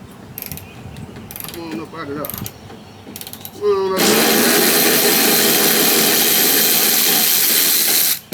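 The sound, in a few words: ratchet undoing bolts on a 2003 Chevrolet Silverado front end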